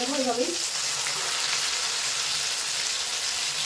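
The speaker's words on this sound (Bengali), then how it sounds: "মশলা এখন ছাড়িয়ে ছাড়িয়ে আমি একদম ভেজে নেবো এইভাবেই।" Chicken chaap pieces sizzling steadily in oil in a pan, with a brief voice at the very start before the frying continues alone.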